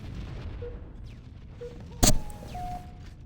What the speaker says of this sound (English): I'm going to get killed by one of their grenades now